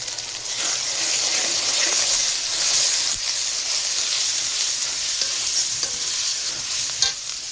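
Roast masala frying in a pan, a steady loud sizzle with a continuous hiss and the scrape of stirring throughout, no voices.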